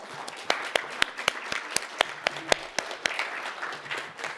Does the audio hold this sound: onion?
no